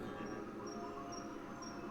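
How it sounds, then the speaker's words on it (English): Jungle ambience in a video game, with repeated high insect chirps pulsing at regular intervals over a dense, steady bed of background hum, fairly quiet and continuous, with no talking. "Jungle just sounds like a typical jungle thing."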